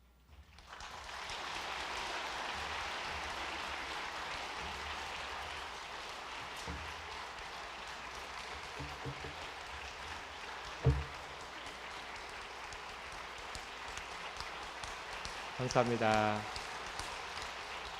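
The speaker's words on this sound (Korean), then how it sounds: "우리 모두의 어버이를 위해서 한 번 더 힘차게 박수하도록 하겠습니다." A church congregation applauds at length, a dense steady wash of clapping close by that fades slightly, with a brief thump and a short spoken word from the front near the end.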